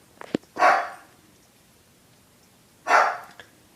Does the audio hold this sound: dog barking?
yes